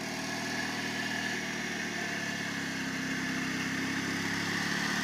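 A homemade tractor fitted with an Oka car engine runs steadily at a constant idle, a loud and close mechanical drone that continues unbroken with no talking.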